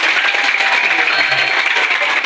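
Hands clapping at a school gathering, a steady dense patter of applause from a group of students held at an even level for a couple of seconds.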